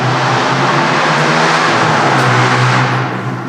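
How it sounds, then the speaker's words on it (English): Loud, steady motor noise of motorbikes riding past nearby, a continuous engine drone with a low hum that holds throughout and eases slightly at the end. "people riding past on noisy motorbikes"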